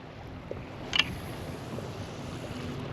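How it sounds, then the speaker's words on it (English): Wind blows over open water around a small fishing boat near Port Richey, a steady low rumble of buffeting air against the microphone with a couple of brief knocks and splashes. "it is windy out here"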